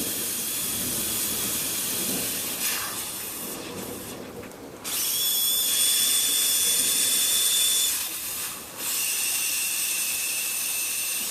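A steamer pours out loud continuous hissing steam while an old caned chair's hide-glued filler spline is loosened, the hiss briefly dropping and surging again, with a thin high whistle during the stronger stretches.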